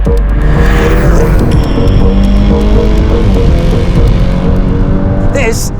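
A VW Golf R Mk 8.5 Black Edition with Performance Pack lapping a race track, with a loud sustained engine note near the listener, rising and falling through the gears, and a brief tyre squeal near the end.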